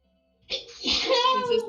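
A single abrupt sneeze bursts out after a moment of near silence, followed by a short voiced trail, close and fairly loud.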